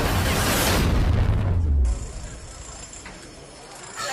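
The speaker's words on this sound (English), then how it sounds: "Missile barrage continues." A missile barrage explosion opens with a loud, deep boom that rumbles for about two seconds, then drops to a quieter, hissing aftermath.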